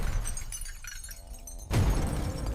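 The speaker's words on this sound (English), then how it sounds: "Glass shattered everywhere around us." Glass shatters with a sudden loud crash near the end, after a quieter stretch of tinkling and rumble, the burst of breaking shards filling the rest of the moment.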